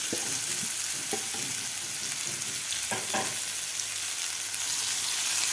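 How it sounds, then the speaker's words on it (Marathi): Masala-coated eggplant (brinjal) pieces fry in hot oil in a pan, a steady close sizzle throughout with occasional stirring scrapes and clicks of a spatula. "आता ही वांगे व्यवस्थित आपल्याला तेलामध्ये परतून घ्यायचे आहेत."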